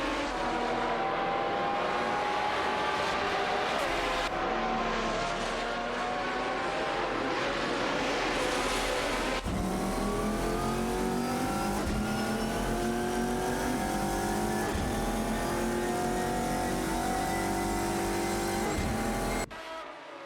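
Video game race cars, a Chevrolet Corvette C6.R and a Nissan 350Z GT1, roar continuously with engine notes rising and falling through the gears and an abrupt shift midway as they race on.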